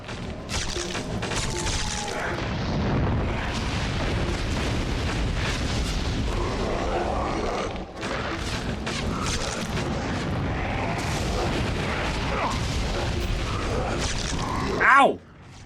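Enemy gunfire aimed at the player in God of War, with dense, continuous crashing and booming combat noise running the whole time and a louder burst near the end.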